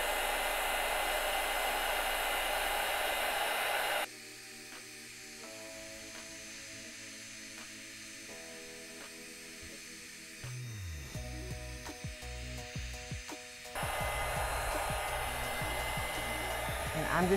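A heat gun blows steadily over embossing powder sprayed onto a cradle shape on sunflower wall art, its loud hiss shifting in pitch as the airflow changes, then continuing as a constant rushing drone.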